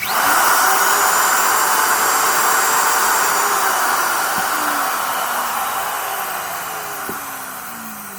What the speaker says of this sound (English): routers can take a long time to spin down